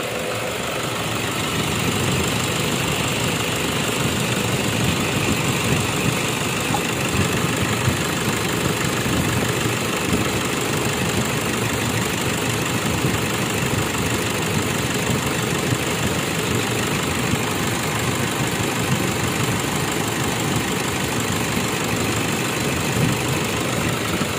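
A Toyota car engine idles after its solenoid has been replaced, giving a steady, even mid-to-low hum with a faint knock-like vibration, running alone at a constant level throughout.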